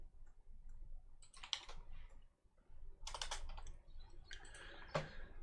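Computer keyboard typed on while writing image-processing code, in short bursts of quick clicky keystrokes separated by pauses, fairly close and alone.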